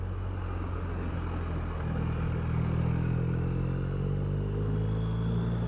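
A 2020 BMW R1250RT motorcycle downshifts into second gear through a tight corner, its engine a steady, close low rumble that swells slightly midway, heard from the rider's seat with no talking.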